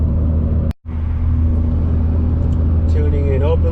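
Car engine held at wide open throttle during a street tuning pull, a loud steady drone with a strong low hum, cut by a brief dropout near the start, with rising whine tones toward the end.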